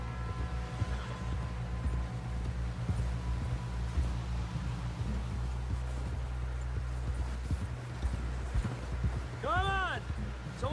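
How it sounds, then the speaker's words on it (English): Horse hooves clip-clop at a steady running pace in the Red Dead Redemption 2 video game, continuous and moderately loud beneath a low rumbling score, with people talking over it. "Someone help John down off this horse."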